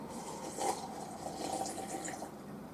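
Ice water pours steadily into a container for a few seconds, a soft continuous splash with slight trickling, close by and alone with no talking.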